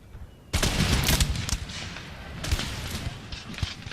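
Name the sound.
gunfire in the video game Empire: Total War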